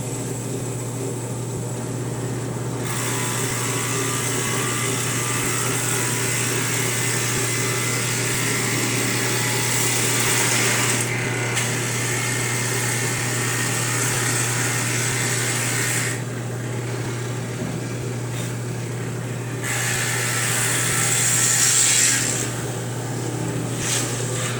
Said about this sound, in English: I'll finish drilling these up and we'll get to the next one.